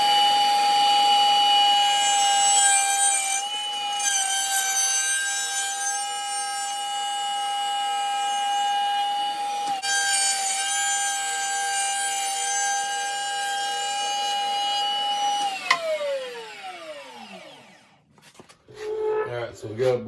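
A router fitted with a 3/8 round over bit cuts a 3/8 walnut dowel with a steady, loud, high whine that runs for about fifteen seconds, then spins down in a falling tone as the motor stops, with a few clunks after.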